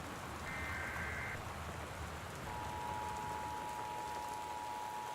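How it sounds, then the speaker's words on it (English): Steady storm rain hisses in the video game Gone Home, a constant, even wash of rainfall with faint tonal beeps from a weather-warning broadcast layered on top. "There's a storm coming in."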